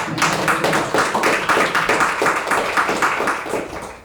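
Audience applause at a poetry festival performance, a steady wash of many hands clapping that holds evenly, then thins and fades toward the end.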